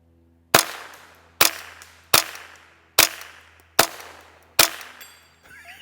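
Six sharp, loud 22LR shots from a Ru-Zooka bazooka-style rifle fired from the hip at a 4-inch steel plate, evenly spaced about a second apart, each a crisp crack with a ringing decay, outdoors.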